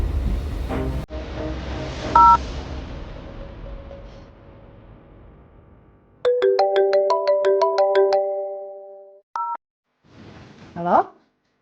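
A phone ringtone plays a rising melodic pattern of repeated tones in a quiet room after speech, followed by short beeps and a rising chirp as the call connects.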